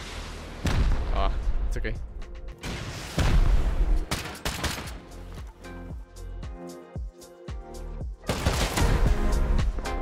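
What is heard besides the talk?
rocket fire and gunfire in Rust video game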